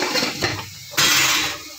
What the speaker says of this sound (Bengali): তো আমি ঢাকা দিয়ে দিচ্ছি এটাকে আবার।